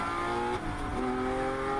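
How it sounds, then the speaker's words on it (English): A race car pulls out of the pits during the 14 Hours of Daytona endurance race. Its engine drones at a steady pitch throughout, with a brief dip partway through, and there is no talking. "Number 34, Hitman Racing, exiting the pits."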